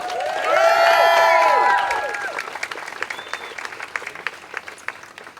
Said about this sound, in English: So let's give Andrea and Maddie another round of applause for sharing their story.